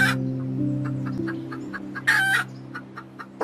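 A chicken clucks in a quick run of short, evenly spaced clucks, then a rooster crows once in a loud burst, both close and with no talk.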